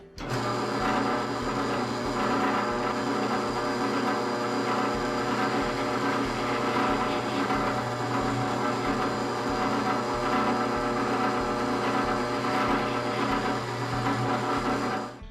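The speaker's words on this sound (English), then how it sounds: "I'm just going to drill those holes" A power drill bores angled holes into wood for a workshop dust collector, a steady dense mechanical whir with a ratcheting, gear-like clatter running continuously and loudly throughout, with no pauses.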